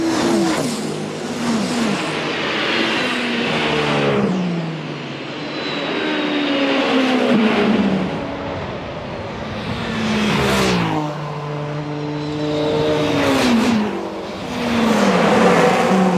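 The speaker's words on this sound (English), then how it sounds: "Look at the battle behind Yiffy Yee in the gold Toyota car, and alongside him Gustavo Menezes, side by side." Race cars including a gold Toyota and a Porsche 963 at the 24 Hours of Le Mans through the Porsche Curves, loud engines rising and falling in pitch as cars pass and shift, one after another.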